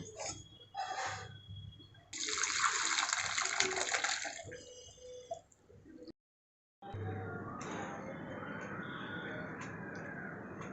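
Hot water from boiled snake gourd pours and drains through a strainer in a steady, close rushing splash that stops briefly, then resumes as a softer trickle.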